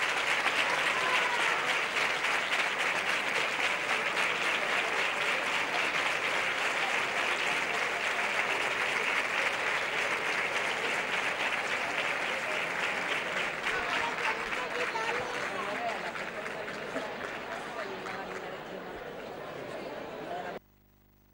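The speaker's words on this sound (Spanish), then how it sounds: "Aplauso a esos hermanacos." A large crowd applauds the hermanacos, the bearers of a Virgin of la Paz coronada image, during a Good Friday procession in Antequera, Spain; sustained outdoor clapping runs steadily for about twenty seconds, then stops abruptly.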